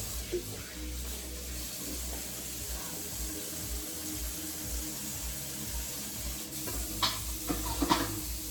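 Tap water runs into a kitchen sink as vegetables are washed, a soft steady splashing with a few clinks and handling sounds toward the end, fairly quiet and close.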